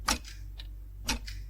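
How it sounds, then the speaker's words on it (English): A clock ticks softly in a quiet room, with a few crisp, evenly spaced tick-tock beats standing alone. "that was the sound of a clock ticking"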